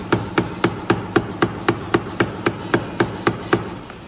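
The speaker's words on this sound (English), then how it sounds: "And we're going to chisel out." Mallet striking a chisel while cutting out a wooden lap joint, about fifteen evenly spaced sharp knocks in a steady rhythm, close and clear with no talking.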